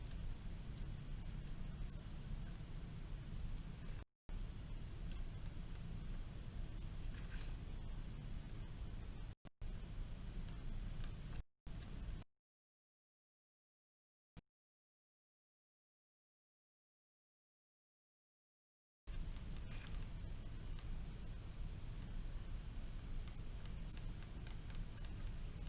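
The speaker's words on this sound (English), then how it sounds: "I'm gonna draw 4 carrots" Pen or marker drawing carrots on paper, with continuous close scratchy strokes that break off in several short gaps and then a long silent stretch before the strokes resume.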